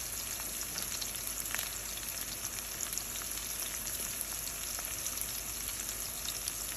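Onions and crushed garlic fry in a pan for a gourd and shrimp curry, giving a continuous, even, dense crackling sizzle with no voices.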